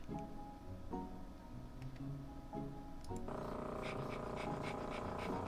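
In the Contraption Maker puzzle game, a cartoon dog pants in quick, soft, rhythmic breaths. The panting is faint and sits under tonal game music that brightens about halfway through.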